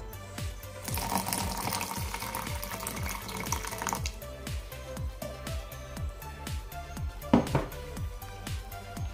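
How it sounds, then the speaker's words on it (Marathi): Water poured from a container into a mixer jar while making a village-style crab curry, a splashing, gurgling pour that runs close and fairly quiet, with small clinks partway through. "पाणी घालूयात आपण पहिल्यांदा मिक्सरच्या भांड्यामध्ये"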